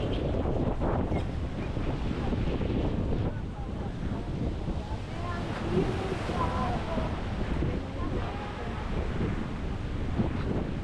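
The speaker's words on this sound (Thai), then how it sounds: "นั่งเรือสปีดโบ๊ท" A speedboat ride out to Koh Larn island in Thailand, with loud, steady wind buffeting the microphone over a continuous rush of engine and water for the whole stretch.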